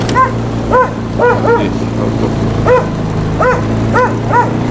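A dog barks in a forest, giving several separate barks in uneven bursts at a moderate distance over a steady low hum. A brief word of speech is heard.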